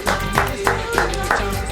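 Digital applause sound effect with short bursts of clapping repeating in a steady rhythm, brief and moderately loud.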